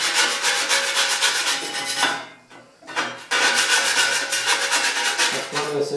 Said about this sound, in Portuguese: Raspando o excesso da fuligem.